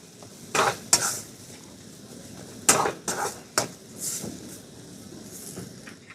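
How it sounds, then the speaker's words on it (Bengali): Green peas stirred in a pan, with scattered sharp clinks and knocks of a spoon against metal, a few close strikes separated by quieter scraping. "দু 3 মিনিট মতন মটরশুঁটিটা একটু নাড়াচাড়া করে নিয়েছি"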